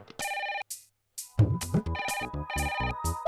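A telephone rings in electronic tone bursts in a Hindi comedy office scene, with a short gap, then rings again while muffled thumps and movement sound underneath.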